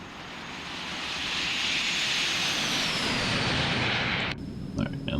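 An Eclipse 550 business jet in the X-Plane 11 simulator roars past in a flyby, the engine whine swelling and sweeping over before dropping off abruptly, followed by quieter cockpit sounds.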